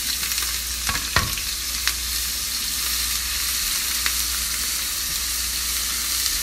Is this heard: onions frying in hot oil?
yes